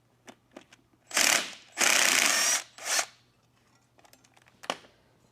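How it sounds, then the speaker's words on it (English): A ratchet fitted with a T45 Torx socket loosens the oil feed line from an old turbo on a 2011-2016 Ford F-150 3.5L EcoBoost, giving a few quick clicks and then three loud, rasping bursts of ratcheting. "we'll start with the T45 Torx to separate the oil feed, oil drain off the old turbo"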